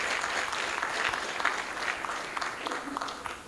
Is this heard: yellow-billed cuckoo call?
no